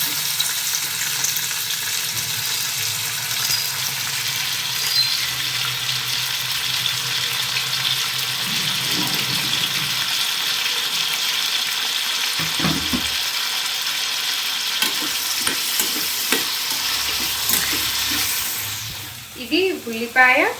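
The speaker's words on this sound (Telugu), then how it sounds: "వీటిని ఫ్రై చేస్తున్నాను కొంచెం ఆయిల్ కొంచెం సాల్ట్ వేసి" Steady oil sizzle of tomatoes and cashews frying with salt in a pan, continuous and close, with a few stirring scrapes near the end.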